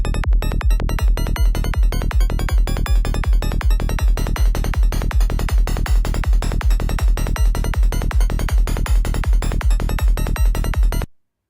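A synthesizer preset built on FM and atonal sounds fires a fast, steady stream of sharp, bright percussive hits with a heavy low end, loud and close, then stops abruptly.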